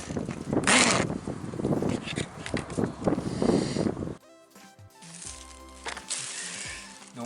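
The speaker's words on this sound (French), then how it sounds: "où le vent se lève." Wind gusts roar and buffet a microphone outdoors on a sailboat deck, loud and broadband for several seconds. The wind then drops to a quieter mix of faint tonal noises before rising again.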